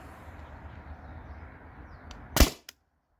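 A Tippmann TiPX paintball marker running on a CO2 tank fires one sharp, loud shot near the end, followed by a short faint tick, after a quiet stretch of low room hum.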